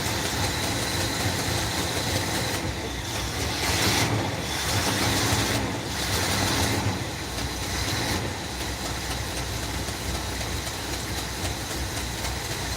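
An older car engine idles steadily for several seconds after flooding, a continuous low rumble with a slight exhaust leak and a few brief dips in the hissy upper noise.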